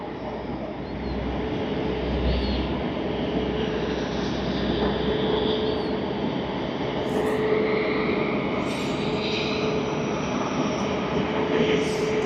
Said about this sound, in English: soon after we will be having Korean Air Boeing 787-10